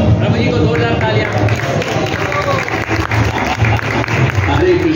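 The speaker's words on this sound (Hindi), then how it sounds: "प्रभु जी को 2000 तालियां।" Audience applause and crowd noise at a Bhagavad Gita lecture hall, a dense steady wash of clapping that holds loud and continuous throughout with murmuring voices mixed in.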